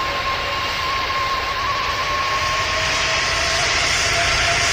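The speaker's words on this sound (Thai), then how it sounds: "ทุกคนเครื่องบินก็ถึงพื้นแล้ว" A passenger airplane lands at Suvarnabhumi Airport, heard as a loud, steady engine roar with a thin sustained whine that holds across the whole stretch, with no voices.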